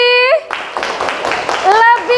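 A class of schoolchildren in an Indonesian classroom claps in a dense, ragged burst of hand claps between loud children's voices shouting at the start and end.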